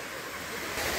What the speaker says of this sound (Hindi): तो हमें ये झरना दिखता है, हम इसको देखने वाले हैं।